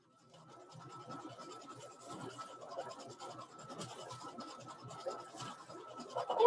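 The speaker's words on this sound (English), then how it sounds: "y'all can hear me digging" Rummaging and scratching through items in a cluttered sewing room, a steady rustle of handled objects and rubbing sounds running throughout and growing louder toward the end, with no voices.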